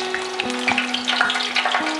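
Chicken balls fry in a tray of oil, giving a steady bubbling sizzle with small crackles, while a low steady hum runs underneath.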